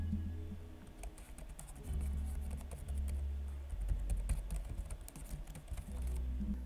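Quiet typing on the keyboard of an Asus GL704 17-inch gaming laptop, a soft, close patter of keystrokes in irregular bursts with no talking.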